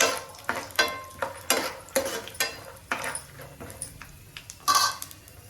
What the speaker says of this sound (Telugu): ఆయిల్ హీట్ అయిందండి మనం తీసుకున్న పల్లీలు పులిహోర కదా ఎండుమిర్చి చూడండి పల్లీలు ఫ్రై అవ్వాలి